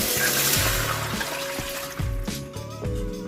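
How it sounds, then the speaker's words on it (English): Bouillon stock poured from a container into a soup pot, a close, steady gushing pour with rhythmic glugging pulses, heard alone. "I've got my stock now that I'm going to put in there that I used from the bouillon powder."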